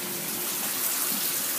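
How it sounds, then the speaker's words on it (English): Steady rush of shower water running into a bathtub where a Rottweiler is being bathed, a continuous close hiss filling the whole moment with no talk. "Are you taking a shower, Lena"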